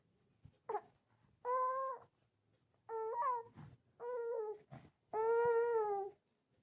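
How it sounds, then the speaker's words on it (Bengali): A cat meows five times, the calls drawn out and whiny, separated by short pauses, fairly close but not loud. "মিনি বিড়াল এসে খেয়ে যা"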